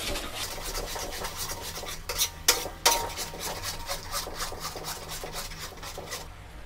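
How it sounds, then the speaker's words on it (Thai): Pink rice noodles stir-fried in a pan over low heat, with a steady rhythmic scraping and rubbing of a utensil against the pan, a couple of louder knocks midway, close and alone. "ผัดเลยครับไฟอ่อน"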